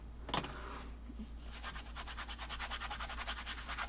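Pen or pencil scribbling across textured journal paper in a junk journal, close and quiet: a short scratch, a pause, then a rapid rhythmic back-and-forth rubbing that runs steadily to the end.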